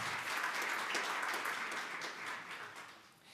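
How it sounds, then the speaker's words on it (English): Conference audience applauding the Norwegian participants at a Polish-Norwegian research cooperation summary event, steady dense clapping throughout that thins slightly toward the end. "So this will be a big round of applause to everybody representing the Norwegian side."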